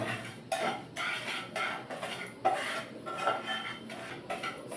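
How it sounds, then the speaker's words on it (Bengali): Semolina roasts in a pan over medium heat for suji halwa while a spoon scrapes and stirs it in steady repeated strokes, a close metallic scraping rhythm with no voices. "মিডিয়াম আঁচে সুজিটাকে অনবরত নাড়তে থাকবো"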